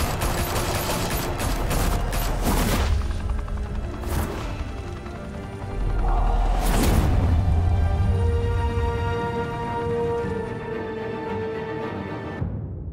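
Gunfire in a Batman Telltale video game scene, with rapid bursts of automatic fire and sharp shots up front, crashes and impacts, then a tense droning score as the shooting dies away.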